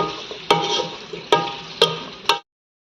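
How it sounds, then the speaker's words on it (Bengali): Vegetables frying in oil over high heat, a steady bright sizzle broken by four sharp clanks of a spatula against the pan, close up, then abruptly cutting off. "সবজিগুলো দিয়ে পাঁচ থেকে দশ মিনিট হাই হিটে আমি সবজিগুলোকে কিছুক্ষণ তেলের মধ্যে ভেজে নিব"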